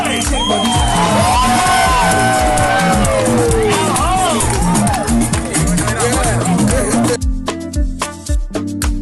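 An audience at a stage performance roars with cheers, whoops and shouts over loud music, dense and close for most of the stretch before the noise drops away near the end.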